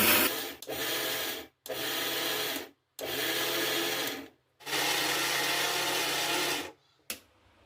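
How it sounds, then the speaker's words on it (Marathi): A mixer grinder pulses roasted sesame and niger seeds for a dry chutney in short on-off bursts: four loud gritty grinding runs separated by brief silences, then a final quick blip. "आता आपले थंड झालेले तीळ आणि कारळ पण ह्यात मिक्स करूया हलकंसंच फिरवून घ्यायचं आहे बंद चालू बंद चालू करत"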